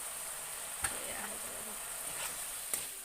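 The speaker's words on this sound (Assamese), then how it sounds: "এতিয়া লাই শাক ভাজিছোঁ" Mustard greens frying in a pan, a steady bright sizzle throughout with a few faint clicks and utensil taps, fairly close.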